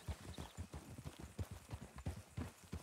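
A horse walks past with clip-clopping hooves, a quick series of regular, fairly close thuds and knocks that continue throughout at a moderate level.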